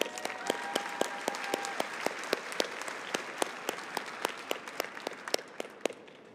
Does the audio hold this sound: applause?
yes